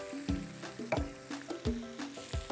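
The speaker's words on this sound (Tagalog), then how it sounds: "habang sinisir natin" Chicken searing in a pan for Filipino ginataang manok, a quiet sizzle punctuated by several soft scraping stirs and knocks at irregular intervals.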